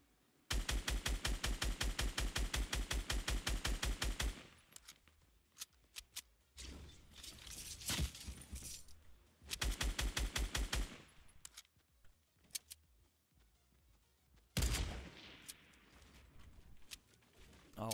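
Rapid automatic gunfire shooting down a target in Fortnite, with two long bursts of evenly spaced shots, loud and close, separated by quieter game noise and a single sharp blast near the end.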